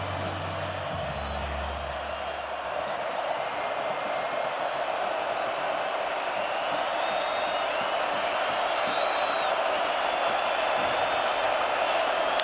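A rowdy football stadium crowd at a Kansas State at Colorado college game roars steadily, a dense, sustained wall of cheering that holds loud from start to finish, with a low rumble at the very start.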